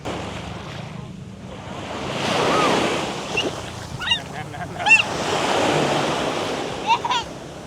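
Sea waves wash onto a beach in Thailand under a cloudy sky, a steady surf roar that swells and recedes, with wind noise on the microphone and a few brief honk-like calls in the middle.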